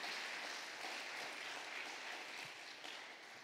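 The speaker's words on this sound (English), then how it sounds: "give God a mighty hand clap" Congregation clapping hands together at a church service, a dense steady wash of applause that holds strong throughout and eases slightly toward the end.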